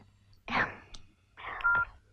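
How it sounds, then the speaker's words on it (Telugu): A telephone call-waiting tone signals an incoming second call during a phone conversation, sounding as two short electronic beep bursts separated by a pause, fairly clear over a quiet background. "వేరే కాల్ వస్తుంది."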